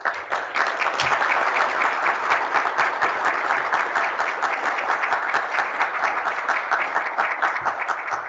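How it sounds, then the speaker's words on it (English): An audience claps steadily for an ambassador at a conference, a dense, sustained round of applause that stays loud and even from start to finish, with no voices standing out. "Let's give another round of applause to the ambassador."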